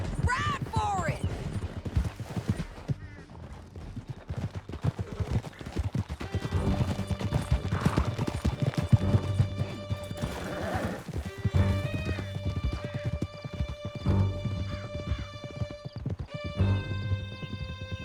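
Horses gallop with steady clip-clop hoofbeats and occasional whinnies in Red Dead Redemption 2, a fast chase through a canyon, loud and continuous under background music and brief shouted voices.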